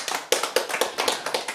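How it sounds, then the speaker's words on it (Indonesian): A church congregation applauds during a sermon. Sharp, close handclaps come in a quick, fairly even rhythm for a second or so, with no talking. "Tepuk tangan buat Tuhan Yesus."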